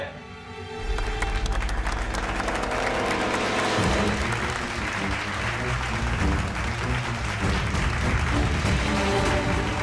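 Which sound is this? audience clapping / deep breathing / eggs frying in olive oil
audience clapping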